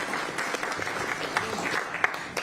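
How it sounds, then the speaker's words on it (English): An audience claps in a brief, dense burst of applause at a district council meeting, the sound sustained and fairly close throughout. "one more round of applause"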